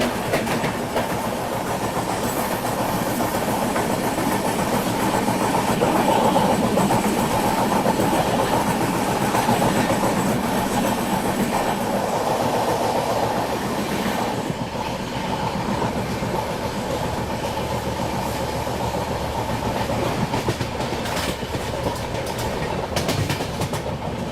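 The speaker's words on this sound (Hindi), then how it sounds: "वो टेकिंग ग्रैंड ट्रंक एक्सप्रेस।" The Grand Trunk Express runs along the rails near Agra, a loud, continuous rumble and clickety-clack of wheels over track joints that holds steady throughout with no voices.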